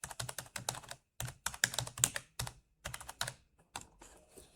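Someone types an assignment name on a computer keyboard with quick, crisp key clicks in short bursts, separated by brief pauses, close and fairly quiet.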